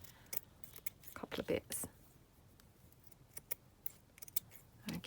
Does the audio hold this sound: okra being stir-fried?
no